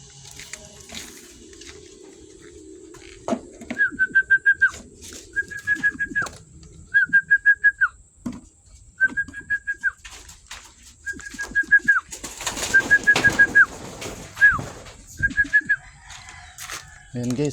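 Pigeons call in repeated short bursts of rising, whistly notes while being fed coconut, close by and fairly loud, with some talking and rustling in the background.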